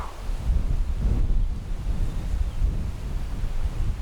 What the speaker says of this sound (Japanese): 麦畑を打つ麦の波というか風の姿がよくわかる